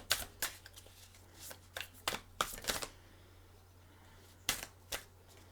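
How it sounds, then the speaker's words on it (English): Tarot cards shuffled and flipped at close range: a run of crisp, rapid riffling bursts in the first three seconds, a pause with low hum, then two more sharp snaps of cards, with no talking. "Card just flipped."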